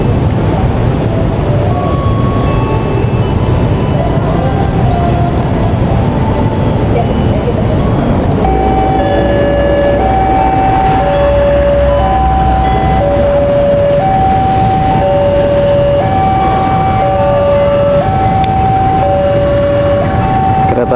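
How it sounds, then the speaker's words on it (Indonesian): The Serayu passenger train departs Cikampek station in Indonesia, a continuous low rumble of rolling stock with a repeating two-tone horn or melody entering midway, loud and close throughout. "Kereta api Serayu diberangkatkan dari stasiun Cikampek"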